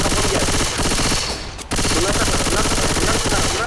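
Rapid machine gun fire in a Minecraft mod game, near and loud, bursting continuously with a brief break around the middle before resuming.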